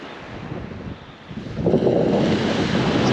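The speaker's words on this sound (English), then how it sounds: "Only the sound of the sea lapping." Sea waves lap the shore near a caravan site in North Wales on a May evening, a soft wash of surf that swells louder partway through, mixed with wind buffeting the microphone.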